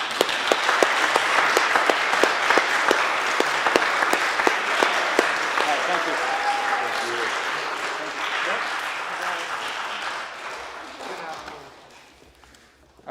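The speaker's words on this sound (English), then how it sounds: "can we have a please big round of applause for these great leaders?" An audience at an Eagle Scout Court of Honor gives the scout leaders a loud, sustained round of applause that holds steady for about ten seconds, then thins out and fades to near silence.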